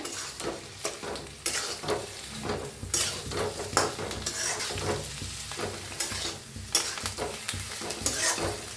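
A spoon scrapes through stuffed brinjal masala with coriander in a pan over a constant sizzle of frying, the stirs falling in irregular, repeated strokes at close range.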